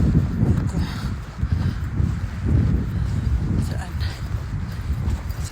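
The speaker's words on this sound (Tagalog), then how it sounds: "Antay tayo. Mahangin." Wind blowing outdoors, a rough low rumble buffeting the microphone throughout while people talk over it.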